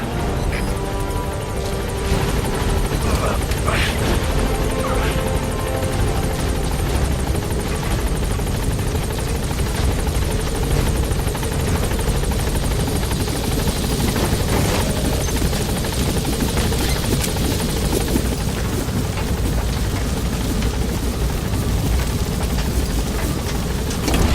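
In-game helicopter from Metal Gear Solid V lifting off, a loud, steady rotor roar and engine whine that fills the whole stretch without a break, with faint game sounds layered underneath.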